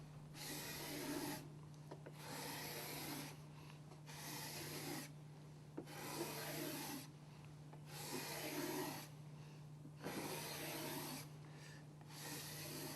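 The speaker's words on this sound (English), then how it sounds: "A scraper, in just a few passes, makes quick work of smoothing out the surface." Hand scraper smoothing planer marks out of a wood surface, heard as about six rhythmic rasping strokes, each roughly a second long with short pauses between, close and steady over a constant low hum.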